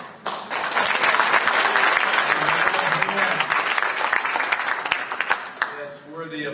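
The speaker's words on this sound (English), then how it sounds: "That's worthy of applause" A sustained burst of audience applause, dense and loud, swells quickly and holds steady for several seconds before tapering off, with a voice starting to speak at the end.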